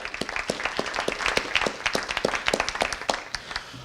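An audience at a book signing claps steadily, a dense patter of many hands at even loudness throughout, with no voices standing out.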